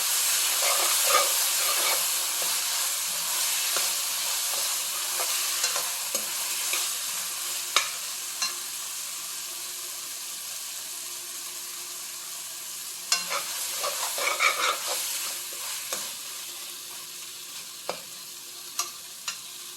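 Chicken pepper fry masala sizzles steadily in a pan after curd is added, with a continuous frying hiss and occasional stirring scrapes and clicks, with no talking.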